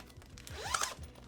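A small zipper on a keyboard case compartment is pulled open in one quick, close rasping sweep, rising then fading.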